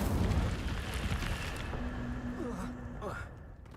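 A fire spell cast in the Hogwarts Legacy video game gives a loud rumbling whoosh of flame that swells at the start, runs continuously and fades near the end, with a voice speaking over it.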